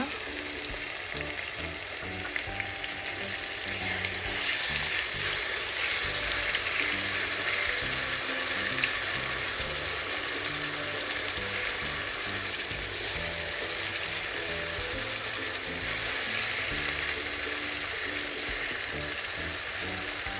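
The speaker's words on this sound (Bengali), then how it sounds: "তারপর আমি দিয়ে দিব আদা রসুন বাটাটা" Ginger garlic paste fries in a pan for a raw mango sweet-sour-spicy pickle, giving a steady, loud, close sizzle with occasional stirring scrapes throughout.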